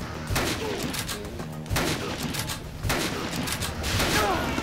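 Gunfire in the zombie video game Dead Rising, several bursts of shots at intervals over a noisy game soundscape, fairly loud and close.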